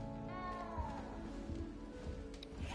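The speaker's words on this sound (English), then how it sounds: "Sounds like a cat somewhere." A cat meows faintly and briefly in the Hogwarts Legacy video game, a quiet high cry rising over a soft, steady game ambience.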